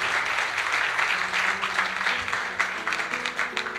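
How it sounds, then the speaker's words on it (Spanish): A church congregation claps for Christ during a Spanish-language service, a steady wash of applause with a voice or two heard faintly beneath it. "denle un aplauso a Cristo"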